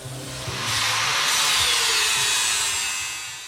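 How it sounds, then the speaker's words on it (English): A 4.5-inch angle grinder with a flat disc grinds a weld off a carrier assembly, a loud, steady, bright rasping grind that swells in over the first second and holds throughout with no talking. "So here I am grinding the weld off of the carrier assembly that I just cut the bracket off of."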